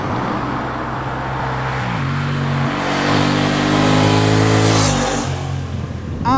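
A 750 twin motorcycle engine revs up and settles back in several rising and falling steps, loud and close with a steady idle underneath, no talk.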